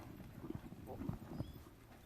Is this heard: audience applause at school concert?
no